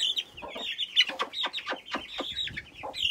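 A hen clucks repeatedly near a flock of month-old chicks, a run of short close clucks and squawks over high steady peeping, with no talk.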